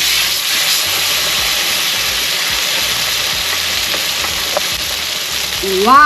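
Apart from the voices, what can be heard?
tomahawk steak sizzling in pan after flipping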